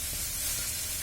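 Chow noodles with vegetables frying in a pan, a brief steady sizzle with a sharp scrape of stirring at the very end.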